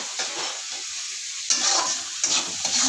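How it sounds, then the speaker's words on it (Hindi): Masala sizzles and fries in a hot pan, a steady crackle with a few brief louder bursts as it is stirred, no voices. "मसाला को जरा पकाएंगे हम।"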